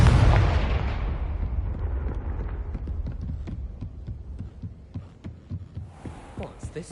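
A Confringo blasting spell goes off in Hogwarts Legacy as a loud booming explosion that fades into a long rumbling tail, followed by scattered soft thuds.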